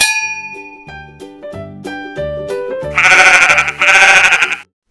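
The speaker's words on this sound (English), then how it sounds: "Sheep." A farm sheep gives a loud, wavering bleat about two-thirds of the way through, following a short run of bright, chiming musical notes.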